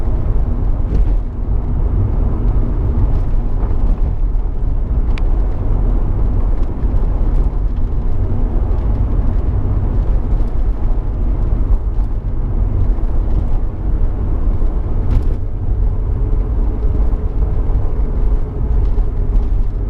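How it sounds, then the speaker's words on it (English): A 2003 Alfa Romeo GTV 2.0 Twin Spark 16v Turismo two-door on the move, its engine and road noise forming a steady, loud low rumble from inside the cabin, with no talking. "Well, this is a lovely driving car."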